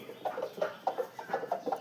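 Chickens cluck in quick, soft, repeated bursts nearby during a morning feeding, a short run of low clucks with no people talking.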